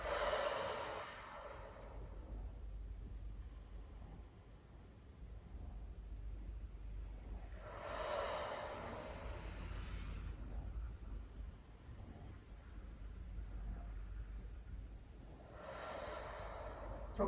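Slow, long exhalations during a guided breathing and movement exercise, three broad breathy swells spaced several seconds apart, fairly soft and close, with quiet steady room noise between them.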